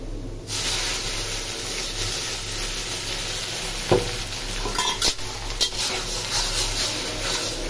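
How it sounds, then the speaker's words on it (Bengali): Ginger garlic paste hits frying onions, a loud hiss bursting in then settling into a steady sizzle, with clinks and scrapes of stirring toward the end. "ওকে, পেঁয়াজটা ভাজা হয়ে গেছে। দিয়ে দিব আদা রসুন পেস্ট।"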